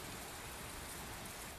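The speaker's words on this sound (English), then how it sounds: "Okay, cool. It rained." Rain falls steadily in the video game Tales of Berseria, a dense even hiss of downpour, continuous and moderately faint with no talk.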